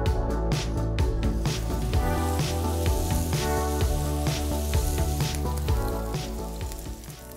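Meat sears in a very hot frying pan, giving a loud, dense, continuous sizzle with some sharp crackles early on that eases slightly toward the end, with no voices.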